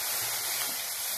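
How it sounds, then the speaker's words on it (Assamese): Water hits a hot pan of fried bamboo shoot, giving a loud, steady hiss and sizzle that fills the whole brief moment. "জোখমতে পানী দি দিম"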